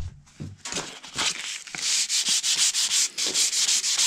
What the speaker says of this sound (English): I'm then going to sand the rod a little bit. I'll just take some sandpaper, like around 150.